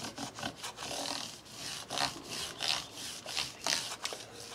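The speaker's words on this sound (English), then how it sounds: "these are the micro mesh cloths from StewMac. I'm just going to sit here and rub on this thing for a minute." Guitar body being rubbed with a StewMac micro mesh polishing cloth: close, rhythmic back-and-forth scrubbing strokes, each a soft swishing rasp, repeating steadily and quietly with no talking.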